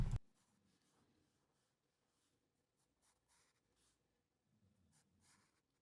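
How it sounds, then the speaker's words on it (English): A pencil sketching a drawer design for a woodworking workbench on paper, with faint, soft scratchy strokes in short bursts after a brief knock at the start. The sound is quiet and close, with no talking. "Here I'm sketching in the sides."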